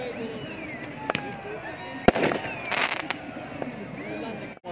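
Fireworks bursting at a cricket match in Kohat, with a sharp loud bang near the middle followed by crackling bursts, set against crowd noise and a commentator's voice.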